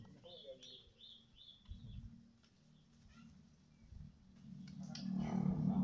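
Several ring-necked turtle doves (trotolan) call at close range in a short series of soft repeated notes, with a low background rumble that grows louder toward the end.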